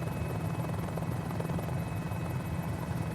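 Mini-500 helicopter with rotor and engine running at full power during takeoff, a loud, dense, steady beating roar that stays constant with no talk.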